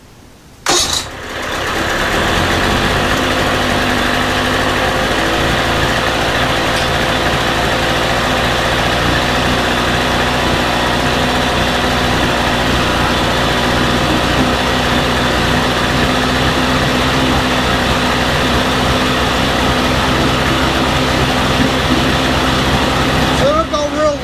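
A Mercury 350 35hp outboard engine, fitted with replacement head gaskets, starts up and runs continuously, a loud, close, rough steady drone without pauses.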